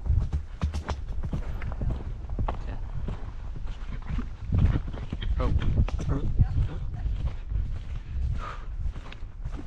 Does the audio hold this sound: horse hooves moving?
yes